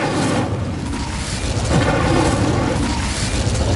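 Incendio fire spell cast in the video game Hogwarts Legacy, a loud, sustained roaring blast with a rumbling, explosive whoosh from start to finish.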